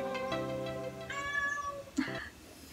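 A pet cat meows a few times close by, with drawn-out calls followed by a short chirp, against quiet room background.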